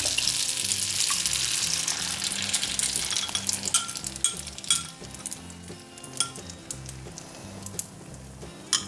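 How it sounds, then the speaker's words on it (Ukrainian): An egg, cheese and milk mixture poured over cooked spaghetti in a pan, then stirred, giving wet sizzling, splashing and scraping sounds, busy at first and thinning into scattered stirring clicks. "Ну, ось так це все сюди виливаємо і знову перемішуємо."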